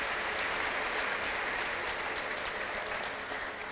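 A church congregation claps together at a worship service, giving a dense, steady wash of applause from many hands that stays at an even level throughout, with no talking over it.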